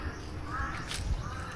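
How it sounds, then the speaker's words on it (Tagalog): A crow caws in a forest, a couple of short harsh calls at moderate distance over quiet outdoor background. "ang ganda pakinggan ng uwak"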